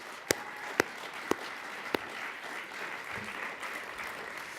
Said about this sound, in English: everybody here today did an awesome job and deserve a huge round of applause